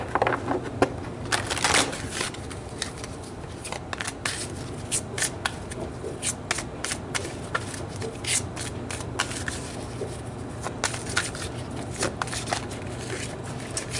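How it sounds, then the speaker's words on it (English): Tarot cards shuffled by hand, a long run of crisp riffling and slapping bursts in uneven rhythm, close and clear with no voice over them. "So let's draw some more cards to see what that is."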